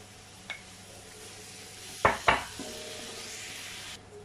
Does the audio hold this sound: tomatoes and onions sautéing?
yes